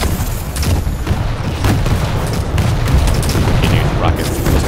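Rocket launcher blasts in the video game Quake Champions: booming explosions mixed with rapid gunfire form a loud, continuous barrage, with a player's voice talking over the action.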